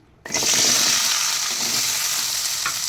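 Shallots and ginger-garlic paste hit hot oil with a sudden loud sizzle that holds strong and steady for a few seconds, close up, with a light scrape of stirring.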